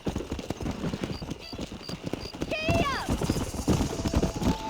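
Galloping horse hooves in Red Dead Redemption, a steady rapid clip-clop close by, with a whinny partway through over game music and a voice talking.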